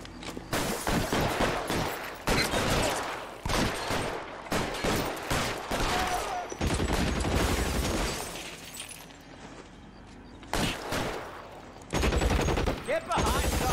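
Heavy gunfire in L.A. Noire crackles in rapid, repeated volleys of loud shots with short lulls between bursts, close and dense throughout.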